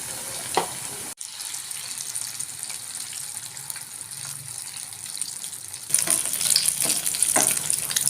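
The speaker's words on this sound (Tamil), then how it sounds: "இது நம்ம ஆயிலில் போட்டு ஃப்ரை பண்ணி எடுத்துக்கலாம்." Maggi noodle cutlets frying in hot oil give a steady, loud sizzle that runs the whole time, briefly cutting out for a moment and then returning louder and more crackling, with no one talking.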